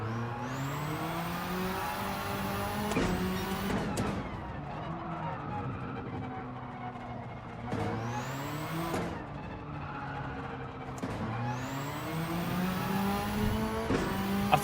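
A racing car's engine in Gran Turismo 7 climbs through the revs in three long pulls. Each pull cuts off sharply at the gear change, with the throttle on and off between them, and the sound is loud and continuous with no talk over it.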